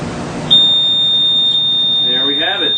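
Beer brewing controller beeping at boiling temperature, a sustained loud high electronic tone starting partway in and holding steady, with a brief voice near the end.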